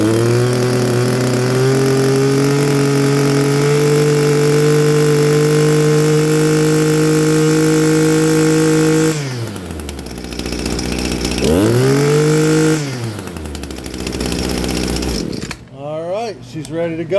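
Echo SRM-261T string trimmer two-stroke engine, freshly fitted with a carburetor fuel line repair kit, roars at steady full throttle for about nine seconds, then drops and revs up again in uneven bursts, loud and close.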